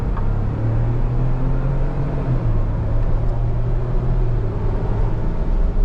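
Modified 2021 Ford Bronco Big Bend at full throttle, a steady, loud, low engine drone that holds unbroken for several seconds with no talking.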